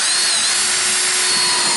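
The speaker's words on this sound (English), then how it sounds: "I drilled about 1/2 inch holes" A power drill bores roughly half-inch holes through a plastic 5-gallon bucket, a steady, loud, continuous whine of the bit cutting plastic, close up and running without pause.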